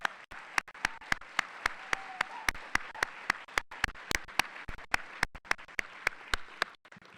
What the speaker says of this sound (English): Let's give Will one more round of applause.